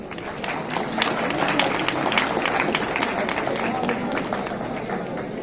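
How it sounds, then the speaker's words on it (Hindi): Audience applause at a Diwali celebration in the Ramjas College auditorium: a crowd claps in a thick, even patter that stays loud and steady from start to finish. "तो जरा एक बार सभी जन जेड के एम्बेसडर्स के लिए ताली हो जाए पहले"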